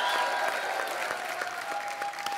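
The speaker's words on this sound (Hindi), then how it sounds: "तो आप सबकी जोरदार तालियों के बीच इनवाइट करना चाहूंगा very talented and very handsome Ritesh Deshmukh" A studio audience at a TV comedy show claps steadily to welcome guests, a dense and even wash of applause with crisp individual hand claps throughout.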